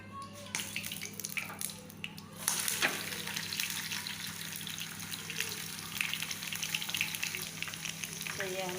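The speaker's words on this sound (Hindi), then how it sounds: "तो ये हमने लहसुन इसके अंदर," Garlic sizzles steadily in a very hot frying pan, a continuous close crackle with brief stirring sounds, no talking over it.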